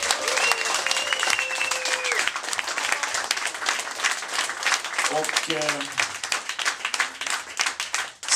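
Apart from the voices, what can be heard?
audience applause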